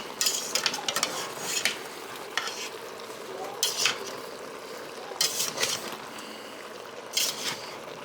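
Mushrooms sizzle in an Instant Pot as a utensil stirs them in repeated scraping strokes, with bright crackling bursts over a steady frying hiss close by.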